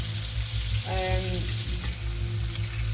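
Steak frying in browning, caramelising butter in a hot pan gives a steady, close sizzle and crackle, with a brief scrape or stir partway through.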